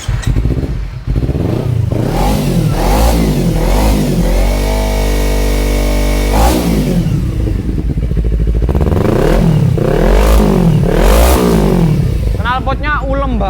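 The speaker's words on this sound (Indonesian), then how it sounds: "Knalpotnya ulem banget ya bang." An automatic scooter with about 34,000 km on it is revved for an exhaust sound check, its engine surging in repeated loud bursts that climb and fall back to idle, with a longer held rev in the middle.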